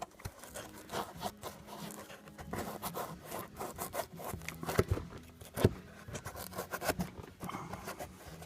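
A plastic trim tool tucks headliner fabric and windlass into the A-pillar trim of a BMW E46, giving faint, close rubbing and scratchy scraping in short irregular strokes, with occasional light clicks.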